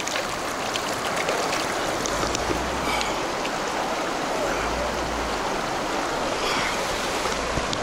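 Continuous rushing water from a fresh mountain-valley stream in Afghanistan, a steady broadband flow running nearby, constant in loudness with no talking.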